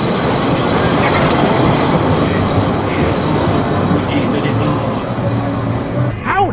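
A roller coaster train at Frontierland, Disneyland Paris, rumbles and clatters in loudly on its track, wheels rattling steadily, with a voice speaking over the noise near the end.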